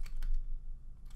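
A few quick, soft clicks of typing on a computer keyboard, faint and close, in a short burst with a pause before a final tap.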